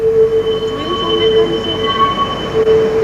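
A Leipzig tram grinds through a curve with a loud, sustained, high-pitched wheel squeal that holds steady for about three seconds over low rumbling running noise, close by.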